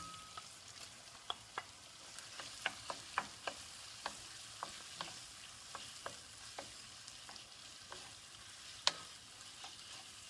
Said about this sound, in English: Our next step is to put our lobster into our garlic, onions, and pepper.